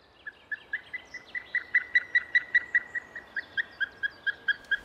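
A large bird of prey with a wingspan over two meters gives a long series of about twenty evenly spaced, plaintive whistled notes, clear against a quiet background.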